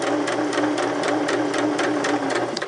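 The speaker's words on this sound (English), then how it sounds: "Then we're going to stitch forward all the way to the end." A sewing machine runs steadily forward along a seam, its needle tapping in a fast even rhythm, close and loud, with no talking.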